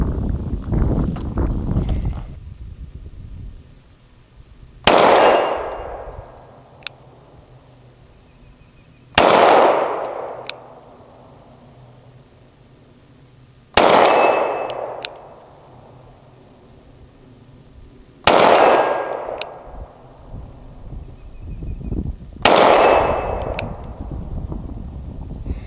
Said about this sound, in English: So here's 10 shots at 50 yards with my SIG